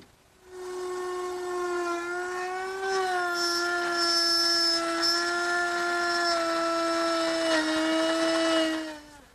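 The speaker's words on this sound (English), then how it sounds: "just going to raise the router up a little bit to cut the mortise deeper" A wood router cuts a mortise in poplar, a steady high whine with a strong tonal pitch that rises slightly as it bites deeper, running alone and loud for most of the stretch before winding down at the end.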